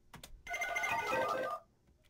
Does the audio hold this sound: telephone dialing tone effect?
yes